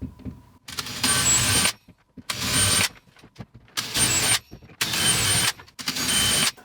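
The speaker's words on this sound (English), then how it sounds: "I've got a mill drill bit and I'm just going to pre-drill my holes for the wood screws." A power drill pre-drills holes for wood screws during a wall mount installation for a Samsung QN90D TV, five loud whirring bursts of about a second each, separated by short pauses and small handling noises.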